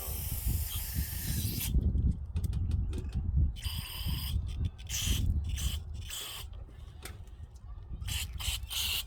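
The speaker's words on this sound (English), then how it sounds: "being generous with the carb spray is not going to do anything" Bursts of carburetor cleaner spray hiss in short and longer blasts, close up on 38mm Mikuni carburetors, separated by brief pauses and faint handling noise.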